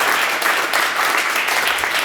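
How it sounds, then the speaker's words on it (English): Warm audience applause follows a talk on awareness-based systems change, dense steady clapping from a sizeable crowd with no voices over it. "A warm applause for Simoon."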